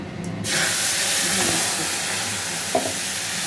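A paste of capsicum, tomato, ginger and green chili drops into hot oil in a pan and bursts into a loud, steady sizzle and hiss that carries on continuously, with a faint stir partway through.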